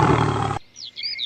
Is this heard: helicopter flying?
no